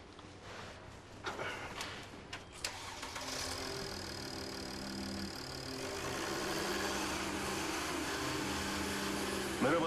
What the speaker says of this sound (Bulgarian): Да, запали да чуеш мотора.